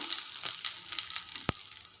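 Steady crackling sizzle of curry leaves frying in hot coconut oil after mustard seeds, with a sharp pop near the end; no voices.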